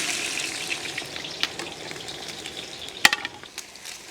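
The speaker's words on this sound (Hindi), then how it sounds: "तो सबसे पहले प्याज डालेंगे।" Onions frying in hot oil for a Rajasthani wild red meat dish, giving a steady close sizzle with a few sharp crackles and pops, alone with no talk.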